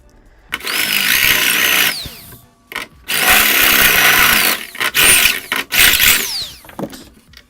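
A power drill whines loudly in sustained bursts, cutting through aluminium with a high screeching grind, stopping and restarting several times.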